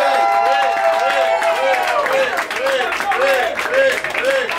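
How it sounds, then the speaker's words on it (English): A comedy club crowd chants a comedian's name in a loud, steady repeating rhythm, many voices together close and dense, with clapping mixed in throughout. "that was the first time I've ever seen the crowd chant someone's name"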